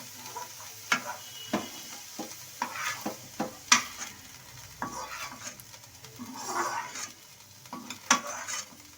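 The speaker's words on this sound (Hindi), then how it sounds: "अब ये देखिए हमारी मेथी भून चुकी है।" Fenugreek leaves fry quietly in a pan while a spoon stirs them. Soft sizzling runs under sharp scrapes and clinks of the utensil against the metal, spaced irregularly and close by.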